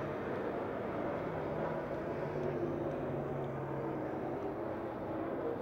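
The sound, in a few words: race cars racing around a speedway track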